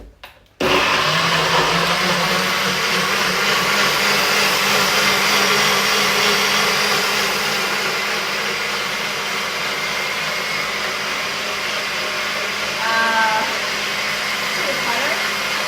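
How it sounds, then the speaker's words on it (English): A NutriBullet blender whirs steadily, pureeing tomato, watermelon and beetroot into gazpacho; the loud, dense motor roar starts abruptly after a brief moment and holds nearly constant throughout, with no talk over it. "we are using the NutriBullet because it makes the soups much thinner"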